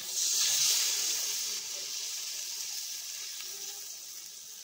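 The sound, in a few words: water added to a hot pan for fish curry gravy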